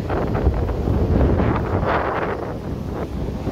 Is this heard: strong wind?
yes